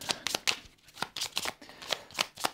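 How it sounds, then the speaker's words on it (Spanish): A deck of adventure cards for a solo tabletop board game being shuffled: a run of quick, crisp riffling bursts repeating in a steady rhythm, close and fairly quiet with no talk. "volvemos a barajar el mazo"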